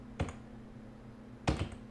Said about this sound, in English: Trying to talk and type